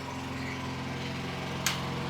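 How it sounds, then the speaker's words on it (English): A generator running steadily in the background on a farm, a low droning hum with a constant pulsing beat and a faint brief click near the end. "I apologize for the generator noise in the background."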